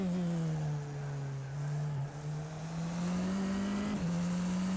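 Tatuus FT-60 single-seater race car lapping Silverstone in rFactor 2, its engine droning steadily in onboard view with small pitch shifts through corners and brief dips under braking, alone without speech.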